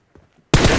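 Gunfire in PUBG Mobile: after a near-silent moment, a loud, abrupt burst of close shots crackles in dense succession and runs to the end.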